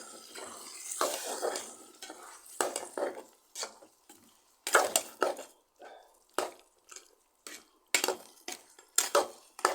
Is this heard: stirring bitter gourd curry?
yes